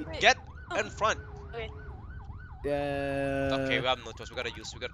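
An ambulance siren in Roblox Jailbreak wails in a steady up-and-down cycle close by, with a blaring horn chord midway, while players talk over it.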